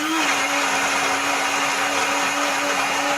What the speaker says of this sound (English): You turn off the blender.